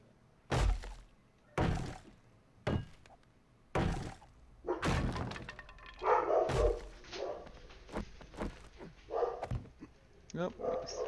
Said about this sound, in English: Sounds like we got somebody out front because my dogs are borking